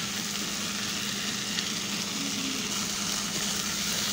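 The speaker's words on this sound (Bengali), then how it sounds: "দিয়ে আমি এই কলাটা খুব ভালোভাবে ভেজে নেব" Raw green banana slices fry in hot oil with turmeric in a pan, a steady, even sizzle that holds without a break, moderately quiet, no voices.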